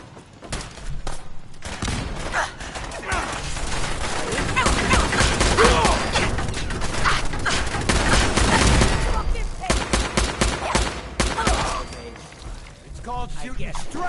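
Gunfire in the video game Fallout 4, with dense bursts of rapid shots and booms running almost throughout, loud and close, mixed with game voices and action noise.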